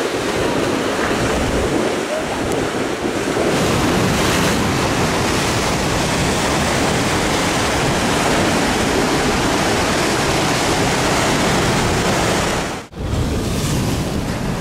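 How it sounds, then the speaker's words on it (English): Ocean surf pounds steadily at El SLAMMO under howling onshore wind, a dense, loud, continuous roar of breaking waves with heavy wind buffeting on the microphone and a brief dropout near the end. "But there's definitely some waves down here."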